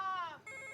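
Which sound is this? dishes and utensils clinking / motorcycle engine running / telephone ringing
telephone ringing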